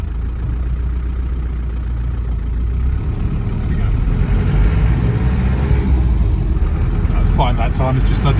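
Land Rover Defender 90 300TDi pickup with its diesel engine idling, a steady low rumble heard from inside or close by, with someone talking over it and a few faint clicks toward the end.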